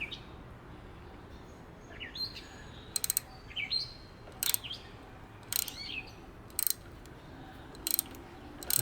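A hand tap cutting threads in aluminum while repairing the stripped pull-start housing of a 1982 9.9 hp Evinrude outboard, producing short squeaky metallic creaks and clicks in repeated bursts against a steady background hiss.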